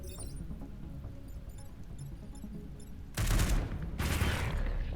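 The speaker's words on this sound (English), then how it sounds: "I can just missile barrage" A missile barrage fires in the turn-based strategy game Into the Breach: after a quiet stretch, two heavy bursts of booming, crackling explosions strike in quick succession, loud and close.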